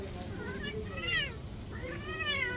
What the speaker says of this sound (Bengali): আমার মিউ বাচ্চা ডাকলে বলে মিয়াও